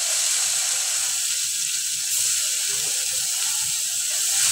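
Onion paste frying in hot oil with a bay leaf in a pan, a steady, loud, continuous hiss that runs unbroken throughout.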